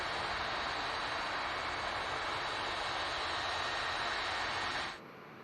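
EasyJet airplane arriving from Pisa, a broad, steady roar of jet engines that holds at an even level and then drops away sharply near the end.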